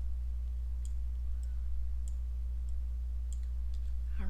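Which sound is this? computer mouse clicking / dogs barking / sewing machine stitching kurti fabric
computer mouse clicking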